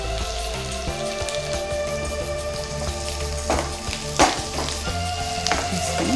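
Sliced onions and curry leaves frying in a pan of oil for Andhra-style pappu charu, giving a steady close sizzle with a few louder pops and crackles.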